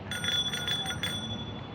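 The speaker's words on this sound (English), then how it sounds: "It's loud, but it needs still regular bicycle bell" A bicycle bell on a fat tire e-bike rings in a quick run of about five bright, close dings over a faint low background hum.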